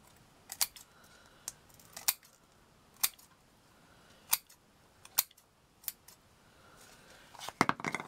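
Scissors snip around paper pieces for a handmade lace caddy: a run of crisp, separate cuts at irregular intervals, close and fairly clear, with a quick cluster of snips near the end and no speech.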